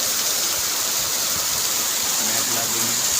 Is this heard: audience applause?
no